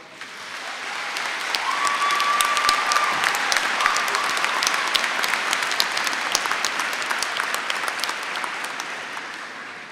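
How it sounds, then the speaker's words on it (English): A graduation audience at a University of Dundee winter ceremony claps in a sustained, dense round of applause, swelling quickly and staying strong for the full ten seconds, with no voices over it. "So give them a round of applause."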